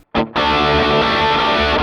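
Electric guitar through a Gokko Salem boost pedal, picked softly: a short attack, a brief dip, then one sustained, lightly overdriven chord ringing loud and alone.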